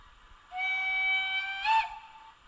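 A model train's steam whistle gives one clear, bright blast lasting just over a second, swelling slightly and bending at the end before cutting off into near silence.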